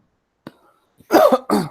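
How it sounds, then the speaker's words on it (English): A faint click, then two harsh, close coughs in quick succession, the second slightly shorter. "I'm sorry for coughing."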